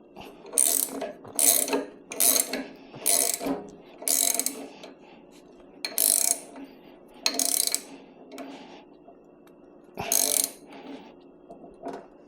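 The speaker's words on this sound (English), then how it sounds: "I'm gonna use the ratchet." A ratchet tightens a 3/4 fitting on a pressure washer unloader, giving about nine close, loud bursts of clicking, each a short rapid run of pawl clicks, with brief quiet gaps between them.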